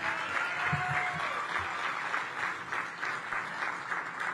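An audience at an outdoor groundbreaking event claps steadily for a speaker being introduced, a continuous medium-loud patter of many hands with faint voices mixed in.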